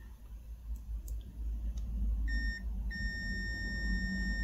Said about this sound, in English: Oh, we've got a beeper on this one.